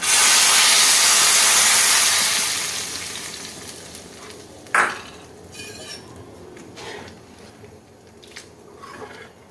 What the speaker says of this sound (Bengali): এবার ডালে আমি ফোড়নটা দিয়ে দেবো